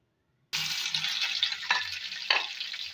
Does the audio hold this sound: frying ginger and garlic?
yes